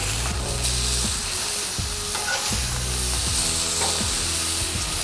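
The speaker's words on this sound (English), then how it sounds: "Let's flip them to this side." Burgers sear on a hot grill with a steady bright sizzle, joined by a few sharp scraping clicks as the patties are turned over, close and alone without talk.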